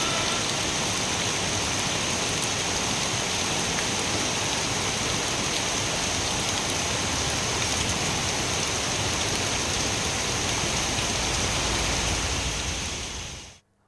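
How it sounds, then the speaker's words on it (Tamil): Steady, dense rain pours down during an evening storm with wind, a loud continuous wash of drops on surfaces that holds evenly for the whole stretch before cutting off abruptly at the end. "மாலை நேரத்தில் காற்றுடன் கூடிய மழை பெய்தது"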